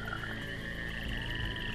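Frog croaking from the fantasy video game Evil Islands, a steady layered croak with a tonal hum under it that runs unbroken at moderate loudness, set against busy game ambience.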